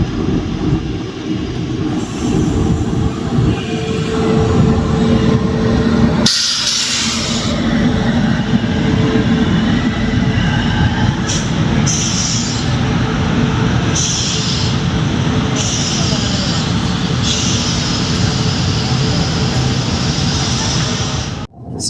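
The Kacheguda-Chengalpattu Express rolls slowly along the rails, with a steady clatter of wheels, metallic creaks and brief squeals, and occasional bursts of louder rattling heard from inside the coach.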